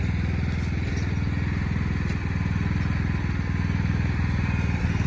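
A lawn mower engine drones close by, steady and fairly loud, with a low, pulsing putter that barely changes throughout.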